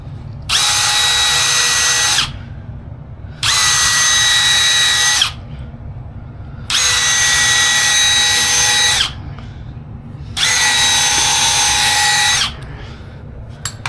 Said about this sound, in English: So we're countersinking and we're using screws